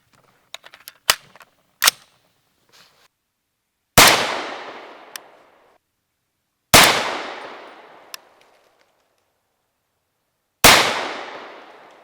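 A 300 Blackout rifle firing factory ammunition: after a few small clicks and knocks, three loud, sharp reports ring out a few seconds apart, each with a decaying echo.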